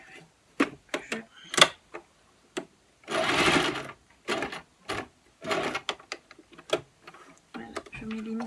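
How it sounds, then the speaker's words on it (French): A domestic sewing machine stitching a fabric face mask, running in short bursts of rapid mechanical whirring and ticking, with a longer continuous run in the middle, close and clear. "Je vais venir encore coudre ici."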